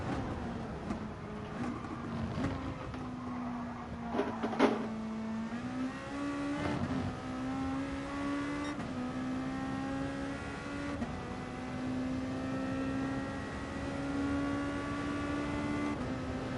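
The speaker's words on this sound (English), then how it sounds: "You're gonna be revving. You're gonna be in the limiter a long time with this car." A race car engine in Gran Turismo Sport held high in the revs and bouncing off the rev limiter for long stretches, a loud, steady buzzing drone with brief rises and dips as the pitch climbs.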